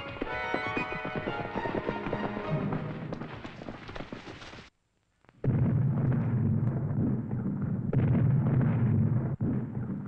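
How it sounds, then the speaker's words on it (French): Heavy booming blasts roll in, followed by a brief silence and then a sustained low, rumbling barrage that sounds like distant cannon fire. "C'est le canon."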